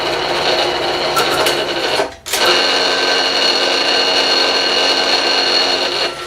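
A Bridgeport milling machine cuts a fixture plate with a Niagara cutter, producing a steady, loud high-pitched whine and grind that drops out briefly near the middle before resuming.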